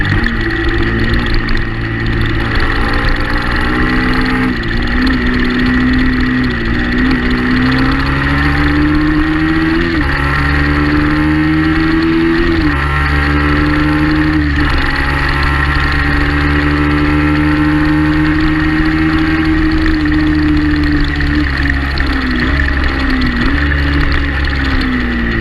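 Racing motorcycle engine heard on board during a race stint at a Teesside round: a loud, steady, high-revving drone whose pitch rises and dips with gear changes across the whole clip, with no talk.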